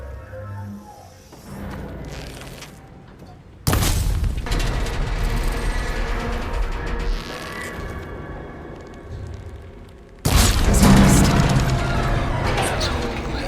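In Horizon Forbidden West, a shot strikes the coupling on the Gaia repository's arm. Two sudden heavy booming crashes ring out, each followed by sustained rumbling and clanking machinery over a quieter mechanical bed.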